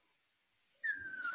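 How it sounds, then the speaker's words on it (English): A dog whines in a thin high-pitched whimper that slides gently downward, fairly faint and close, starting after a moment of quiet and continuing to the end, with no talking. "that poor dogs are whining because they're stressed"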